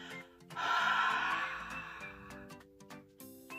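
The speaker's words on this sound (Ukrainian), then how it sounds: "піднесіть до рота, видихніть повітря" A single long breath blown out onto a small handheld mirror, close and soft, rising into a steady airy exhale over a faint musical background, then trailing off.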